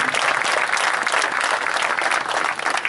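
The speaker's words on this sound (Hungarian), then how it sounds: "igen, jár a taps" Steady, full applause from a crowd at a handball season opener rolls on continuously, dense and fairly loud, tapering slightly at the close.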